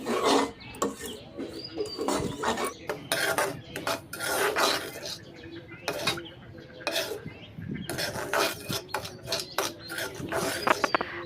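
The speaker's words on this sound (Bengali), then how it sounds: "সুজি একটু ভাজা ভাজা করলে খেতে ভালো লাগে, তাই আমি একটু কম আঁচে সুজি ভেজে নিচ্ছি।" Semolina is being dry-roasted in a pan over low heat while a utensil stirs and scrapes it, producing close, irregular bursts of scraping and clinking with short pauses between strokes.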